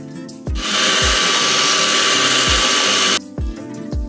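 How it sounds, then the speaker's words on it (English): A hand mixer beats strawberry cake mix batter on medium speed, starting with a steady loud whir that runs about three seconds and then cuts off, with brief clicks and knocks before and after. "Now we're going to beat our cake mix with our hand mixer for 2 minutes"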